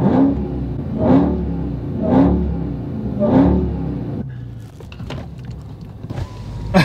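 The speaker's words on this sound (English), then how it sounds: "I'm going to give them a little rev." A Dodge Hellcat engine revs in four evenly spaced bursts, each a loud rising vroom that swells and falls back to a deep idle rumble, followed by quieter rustling noises near the end.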